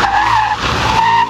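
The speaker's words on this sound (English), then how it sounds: "I just braked like I was normal. And then it locked." Tires of a car braking hard without ABS lock up and skid, giving a loud, sustained squeal that wavers in pitch, dips briefly midway and then rises again before cutting off.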